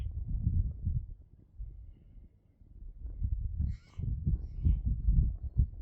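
A bird calls outdoors with a few faint, raspy caws partway through, heard over low rumbling background noise and handling sounds.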